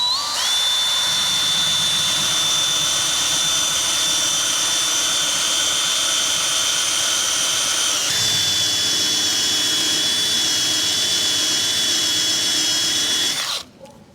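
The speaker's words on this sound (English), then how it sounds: "this is like just a rubber wheel, almost like an eraser almost. So we're gonna use this to take off the rest of the glue here" A rubber eraser wheel spinning on a power tool as it strips leftover badge glue off a Chevy Colorado truck's paint: a loud, continuous high-pitched whine that shifts slightly in pitch midway, then cuts off right at the end.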